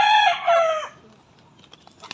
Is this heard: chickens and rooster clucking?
yes